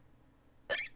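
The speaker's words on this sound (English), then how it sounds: "I have guinea pig hiccups." A single sharp, squeaky hiccup, high and abrupt, bursts out after near silence, sounding close and brief.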